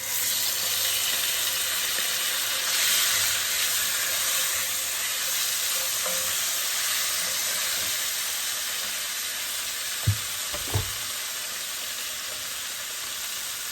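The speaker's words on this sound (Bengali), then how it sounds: "এখন বাগার দিয়ে দিব" Spices tempering in hot oil in a pan, a steady loud sizzle and crackle running throughout, with a couple of brief knocks of utensils near the end; no one speaks.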